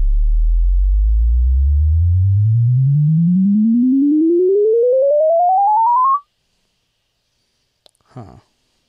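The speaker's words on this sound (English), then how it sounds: "Let's try the sine wave and see if that makes a difference." A loud, steady sine-wave test tone sweeps smoothly upward in pitch for about six seconds and then cuts off, followed by silence and a couple of faint clicks near the end.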